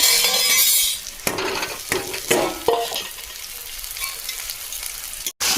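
Cabbage sizzles steadily in mustard oil in a wok, with several sharp scraping stirs of a spatula in the middle and a brief cut near the end; close and fairly loud, no talking.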